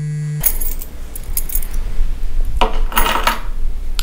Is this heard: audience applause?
no